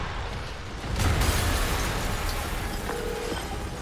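A muffled explosion in the Spider-Man PS5 video game, a broad low rumble and burst that swells near one second and then lingers as a steady roar without speech.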